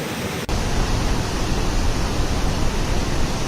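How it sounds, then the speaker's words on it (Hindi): Muddy floodwater rushes along a swollen stream during heavy rain, a loud, steady broadband roar that fills the whole stretch after a brief dip near the start, with no voices. "इस वक्त ये जो पानी है ये मटमैला है, क्योंकि बारिश इस वक्त हो रही है"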